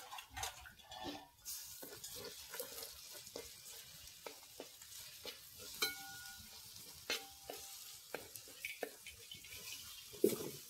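Onions and masala fry in a pan for a hotel-style muru fish masala fry, giving a quiet, uneven sizzle broken by frequent scraping stirs and light clinks of a spoon against the pan.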